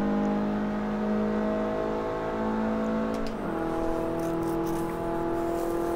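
Toyota Yaris race car engine in the video game Forza Motorsport 3, a steady droning whine held at high revs, then a brief dip and climb as the car shifts or brakes through a chicane, with no talking.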